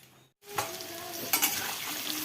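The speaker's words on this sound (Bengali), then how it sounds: "এখানে মাংসর আলু ভাজা করছি" Potatoes for a meat curry frying in a pan, a close, continuous crackling sizzle that starts after a brief silence, with a couple of stirring scrapes.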